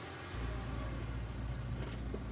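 Small two-seater pickup truck engine in the Scarlet Hollow video game, a steady low idling rumble that starts abruptly and holds close and even throughout.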